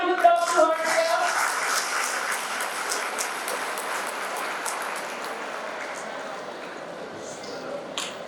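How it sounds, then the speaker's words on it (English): An audience at a campus-to-corporate conference panel applauds, a steady rain-like patter of many hands, strongest at the start and slowly thinning, with a few people speaking beneath it. "So let us all give a big round of applause to ourselves."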